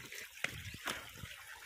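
Water from a mountain spring trickles in a forest, a soft continuous flow with a few brief splashy bursts, fairly close.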